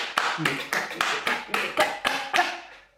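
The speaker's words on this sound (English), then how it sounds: "You are going to make that booty clap with sound, okay?" Booty clap: a series of about nine sharp, evenly spaced slapping claps, loud and close, each ringing briefly before the next.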